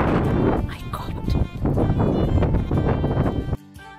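Heavy wind buffets the microphone in a steady low roar at the Cliffs of Moher, Ireland, with brief bits of voice mixed in, before dropping off abruptly near the end.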